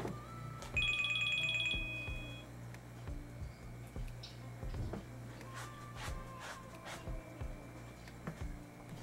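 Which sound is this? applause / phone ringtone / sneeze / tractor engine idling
phone ringtone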